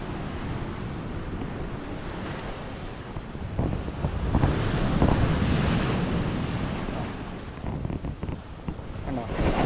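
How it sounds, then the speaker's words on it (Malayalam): Ocean waves crash against a coastal breakwater in strong wind, with continuous wind buffeting on the microphone and heavy surf surging louder around the middle, with no voices. "ഒരു തിര വരുന്നുണ്ട് കേട്ടോ"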